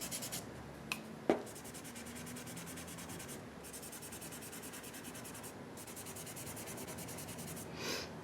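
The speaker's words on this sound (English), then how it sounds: "what else I wanted to point out with a pencil is that you can use it like this. You can create marks." A graphite pencil scratches and rubs across paper in steady strokes, close and fairly quiet, with a couple of small taps near the start.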